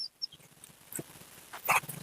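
A dog gives a few short, faint yelps and whimpers in a quiet indoor setting, spaced irregularly over two seconds.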